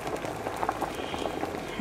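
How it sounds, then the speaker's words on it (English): Sweet potato boiling in a pot for a fish stew, a brief burst of steady, close bubbling and gurgling. "I'm boiling the sweet potato here."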